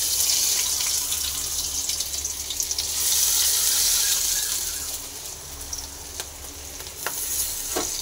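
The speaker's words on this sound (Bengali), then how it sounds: "দেখো আমার তেলটা পুরো গরম হয়ে গেছে। আমি এবারে এক এক করে পাতাগুলো দিয়ে দেবো।" Battered pumpkin leaves fry in hot oil in a frying pan, giving a loud, dense, continuous sizzle with a few sharp pops and crackles, close up and without talk.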